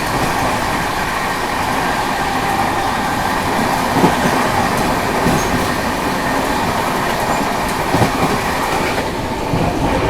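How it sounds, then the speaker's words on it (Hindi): The Howrah Jodhpur Express rumbles past at close range, a loud, continuous roar of rolling wheels and rail clatter that fills the whole stretch without any talk over it. "अभी देखो सामने से आ रही हावड़ा जोधपुर एक्सप्रेस।"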